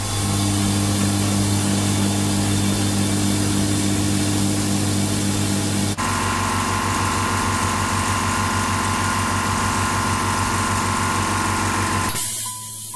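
A small air compressor filling its tank runs close by with a loud, continuous motor hum and buzz that shifts pitch midway through, then cuts off after about twelve seconds.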